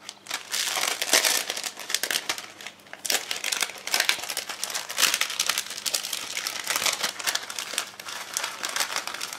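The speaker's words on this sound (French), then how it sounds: "Je vais y mettre mes sequins orange et noir." Orange and black sequins poured and shuffled into a Halloween shaker card, giving a continuous close crinkling and rustling with frequent sharp plastic clicks and small bursts, steady throughout with no talking.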